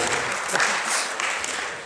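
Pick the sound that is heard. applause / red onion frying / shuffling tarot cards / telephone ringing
applause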